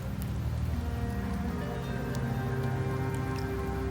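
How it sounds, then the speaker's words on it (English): Steady rain falls in the Wuthering Waves video game, a dense, continuous patter over a low droning hum, even and unbroken throughout with no voices. "The rains in Septimont never seem eager to leave this season."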